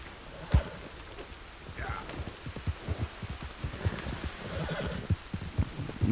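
In Red Dead Redemption 2, a horse whinnies once clearly while its hooves clip-clop in an irregular rhythm, close by, with faint rain in the background.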